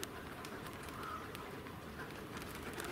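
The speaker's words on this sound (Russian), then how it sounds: "Посмотрите, сколько голубей в небе." A large flock of pigeons, kept by a fancier with over a hundred birds, circles overhead in the morning, giving a steady rushing wash of wingbeats with soft cooing mixed in, continuous and fairly distant.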